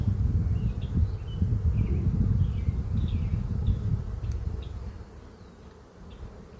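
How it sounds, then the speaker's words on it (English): A dense, steady drone of many honey bees buzzes from an open hive that also holds a few hive beetles, a continuous close swarm hum with no talk over it. "We got a lot of bee activity, as you can see."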